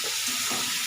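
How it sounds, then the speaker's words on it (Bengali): Prawns sizzle and fry in a pan as they are stirred, a brief, close, continuous hiss with soft scraping underneath. "আমি চিংড়ি মাছটাতে নুন দিয়ে ভেজে রেখেছি, সেই জন্য বেশি নুন দেবো না। একটু নেড়ে ফেলে"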